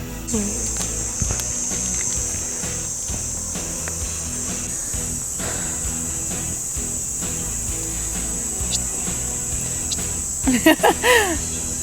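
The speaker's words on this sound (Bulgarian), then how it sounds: "Цикади? Да." Steady high insect chorus of cicadas droning continuously outdoors, loud and unbroken, with faint low background sounds and a few brief louder noises near the end.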